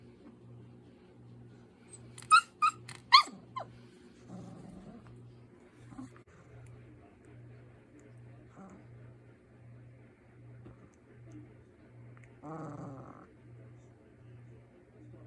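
Belgian Malinois and Labrador cross puppies give a quick run of three or four sharp, high yelping barks, then softer whimpers and a brief low growly burst later, over a steady low electrical hum.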